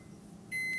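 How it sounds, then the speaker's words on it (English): A single sharp electronic beep from a microwave oven cuts in halfway through a quiet room, a clear steady tone that holds briefly with a slight pulse. "This thing's microwave is going to beep in a minute"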